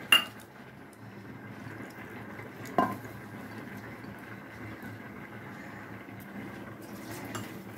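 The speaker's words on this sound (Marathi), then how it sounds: "वरणात घालण्यासाठी मी इथं चिंच घेतलेली आहे 5-6 बुटकं. हे आपण धुवून घेऊ." Tamarind pieces washed in water in a metal pot: faint sloshing with a couple of sharp clinks of the vessel, quiet and close, without any speech.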